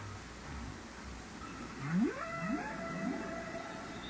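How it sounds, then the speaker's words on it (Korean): A whale calls underwater in a few rising, sweeping moans over a steady hiss of ocean noise, sounding fairly close. "이 아름다운 노래의 주인공은 마침 지나가는 고래이고"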